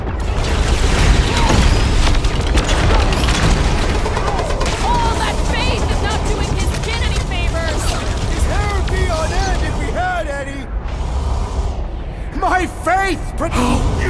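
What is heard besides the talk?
gunfire in Guardians of the Galaxy video game battle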